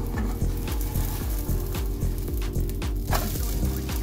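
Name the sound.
egg pancake with flatbread frying and being flipped in pan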